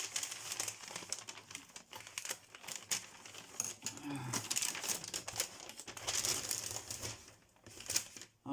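Kraft paper packaging being unwrapped and torn open, close crinkling and rustling with bursts of tearing, continuous and fairly loud.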